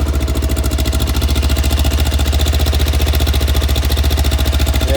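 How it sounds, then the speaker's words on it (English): A 30-year-old motorbike engine runs steadily up close, loud and even, with a rapid regular pulsing beat that holds throughout. "Sounds sweet and cold for an old 30-year-old bike."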